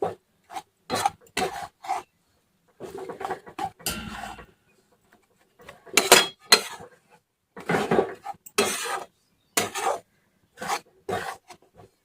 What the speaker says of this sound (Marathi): कमी गॅसवरती ढवळतच राहायचे